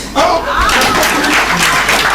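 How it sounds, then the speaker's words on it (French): Applause rises at a French-language social aid and development debate event for a participant from Cameroon, a brief burst of clapping mixed with voices and a few chuckles. "Merci d'applaudir Stéphanie du Cameroun"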